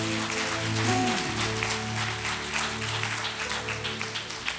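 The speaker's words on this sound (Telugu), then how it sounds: "ఆ చప్పట్లు కొడితే నీ పక్కన ఉన్న లూసిఫర్ పారిపోతుంది" A church congregation claps during a sermon, giving sustained, fairly loud rhythmic applause that runs throughout over a steady low musical drone.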